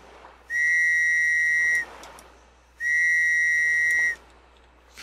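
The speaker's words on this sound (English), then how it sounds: "A whistle" Two long, steady whistle blasts sound in Stranded Deep, each held about a second and a half with a short gap between, loud and close over a faint background hum.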